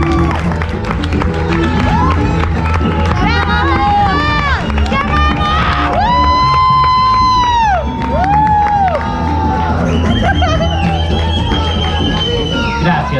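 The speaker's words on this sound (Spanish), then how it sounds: "Pido un fuerte aplauso para Bernardito." A stand-up comedy crowd cheers, whoops and shouts loudly as a comedian is introduced, a dense, sustained wall of voices with piercing high calls rising over it throughout.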